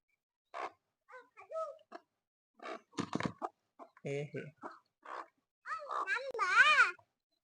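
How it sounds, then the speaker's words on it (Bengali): Chickens with their chicks on a duck-keeping farm give short clucks and high cheeping calls in scattered bursts, with a louder run of rising peeps near the end; a voice talks between the calls. "এই মুরগি বাচ্চাগুলা"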